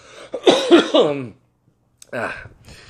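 A person coughs several times in a short harsh burst, followed by a pause and a softer throat sound, close by.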